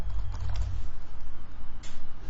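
Quick, close keystrokes on a computer keyboard tap out a fast uneven rhythm, with no talk alongside.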